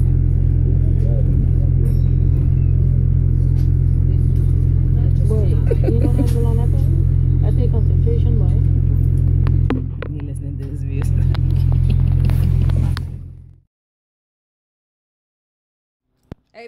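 A bus engine rumbles deep and steady while racing on the road, with a constant low throb that dips briefly before cutting out near the end, and voices can be heard over it.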